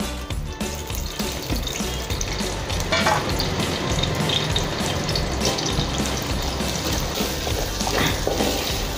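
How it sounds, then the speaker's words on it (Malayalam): Shallots sautéing in hot oil left from frying chicken for chicken kondattam, a continuous close sizzle and crackle with occasional stirring scrapes throughout. "ചിക്കൻ വറുത്ത എണ്ണയിൽ തന്നെ ഞാനത് ഇടുകയാണ്. ചെറിയ ഉള്ളി ഇട്ട് നന്നായിട്ട് നമ്മൾ വഴറ്റിയെടുക്കണം."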